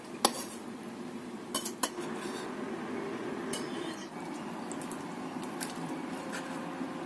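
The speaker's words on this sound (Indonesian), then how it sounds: "Ini kemudian kita taruh ke dalam piring," Light clinks of utensils against a plate, a few sharp taps near the start and middle, over a steady low background hum.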